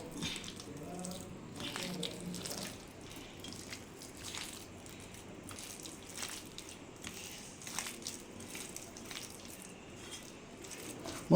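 Potato pieces being mixed by hand with spice powder and a little water for poori kilangu, giving soft wet squishing and squelching that repeats steadily and close up throughout, with no talk.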